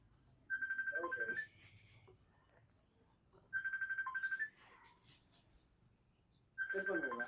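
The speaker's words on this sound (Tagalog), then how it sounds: "Cellphone mo ba? Akin po." Three bursts of a cellphone ringtone, each about a second long, a steady electronic melody repeating at regular intervals in a quiet room during a knee and walking therapy session, with faint background noise between rings.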